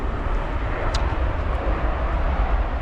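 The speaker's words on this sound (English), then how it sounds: "just like that plane pass" A fixed-wing airplane passing overhead, a steady broad low roar that stays loud and even throughout with no speech.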